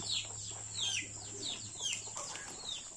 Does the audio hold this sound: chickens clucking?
yes